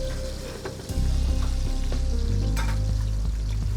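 Oxtail browns in a hot pan for Roman coda alla vaccinara, a loud, steady frying sizzle that swells after the first second and stays constant, with faint stirring clinks and no voices.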